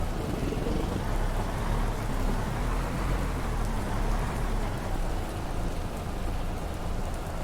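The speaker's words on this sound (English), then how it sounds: "I am not using a mod for rain." Steady, dense rain hisses and patters in the trucking game American Truck Simulator, a constant broadband wash with a low rumble underneath and no voices.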